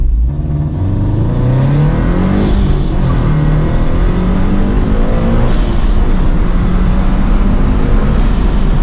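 A supercharged Subaru BRZ accelerates hard from a launch-control start on a back road, its engine loud and close with rising revs and gear changes throughout, heard from inside the car.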